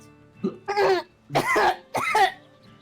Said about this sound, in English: You need to work on that cough